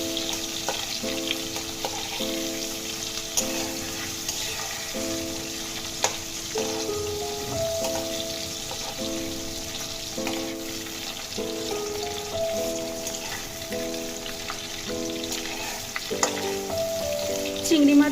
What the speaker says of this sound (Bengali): হালকা করে আমি চিংড়ি মাছগুলোকে ভেজে তুলে নেব।